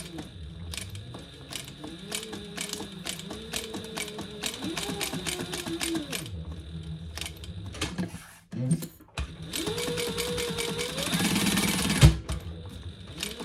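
A sewing machine backstitches along a seam on a fabric diaper backpack, running in steady mechanical bursts with short pauses and changes in speed, close and fairly loud, with a brief break partway through.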